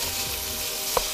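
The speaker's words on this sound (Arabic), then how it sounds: "احنا عندنا اللحمة ابتدت تتقلي تتقلب" Minced meat frying in a pan with a steady, even sizzle, close and alone, with a single faint clink partway through.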